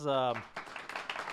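An audience applauds the three panelists at a mayor's speaker series panel on suburbia. The clapping follows a brief spoken word and stays moderate and steady for about a second.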